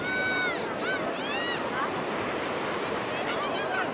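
Sea waves rolling onto Pakala Beach, a steady loud wash of surf with wind noise, while birds call high above it near the start and again toward the end.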